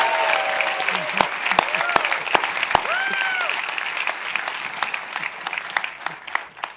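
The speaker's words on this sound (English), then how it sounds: "How about another round of applause for Sam Lake?" An audience at the New York Game Awards applauds Sam Lake with sustained, dense clapping, with scattered whoops and cheers rising over the crowd before the applause tapers off.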